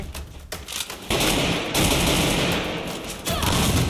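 Rapid gunfire rings out in a shooter video game during a Thai clan esports match, dense bursts of shots and automatic fire overlapping almost continuously at close range.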